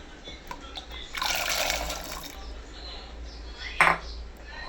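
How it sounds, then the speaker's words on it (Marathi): Water splashes and swishes for about a second as corn kernels are rinsed in a bowl, followed later by a short clatter, all fairly quiet. "मी काही मकीचे दाणे घेतलेले, ते स्वच्छ पाण्यातून धुवून घेऊया"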